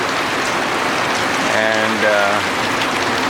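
Steady rain falling in a backyard, a constant close hiss of drops on surfaces throughout, with a passing airplane's tonal hum rising briefly in the middle and a single spoken word.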